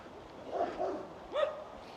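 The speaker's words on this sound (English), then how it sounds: "You can probably hear the dog." A dog barking a couple of times from a distance in a hillside neighbourhood, faint woofs over steady outdoor background noise.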